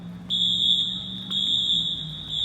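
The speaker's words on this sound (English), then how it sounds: "The fire alarm is going off." A building fire alarm sounds at night in Costa Mesa, California, a loud piercing electronic tone that starts abruptly, holds steadily with a brief break, then continues over a low background hum.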